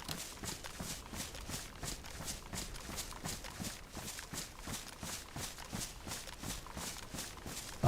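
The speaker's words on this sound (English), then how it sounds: "I heard footsteps there, but it was just the ambient, the leaves" Ambient rustling leaves in DayZ on the Livonia map: steady, evenly spaced crunching steps that sound like someone walking nearby, continuing at a regular pace throughout, moderately loud with no talk.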